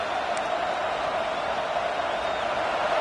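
A dense, steady roar of a large college football stadium crowd at Texas vs Penn State fills the space, a constant wash of distant voices with no single sound standing out.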